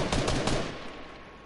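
A close burst of gunshots in a multiplayer shooter match: a few sharp cracks in quick succession at the start, then a fading tail and quieter background.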